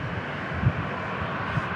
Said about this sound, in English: We got a Kansas City Southwest Airlines inbound.